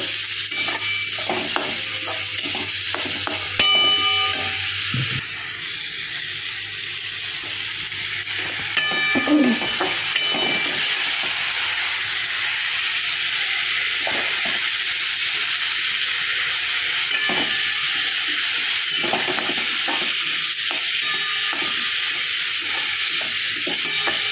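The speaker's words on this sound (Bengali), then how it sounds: "এবার মশলাটার সঙ্গে ভালো করে কষাতে হবে।" Spice paste and green chillies stir-fried in a pan for a Bengali mourola fish chochchori with coriander leaves: a steady close sizzle runs throughout, broken by frequent scraping spatula strokes and occasional clatters, with no talk.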